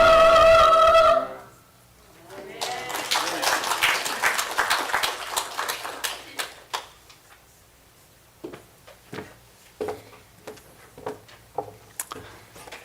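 Congregation in a church applauding after a hymn, starting a beat late and building to a moderate patter of clapping that thins to scattered claps, following a sustained sung or organ note that ends abruptly.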